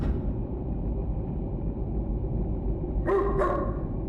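A dog in a video game gives two quick, fairly close barks near the end, over a low steady background hum.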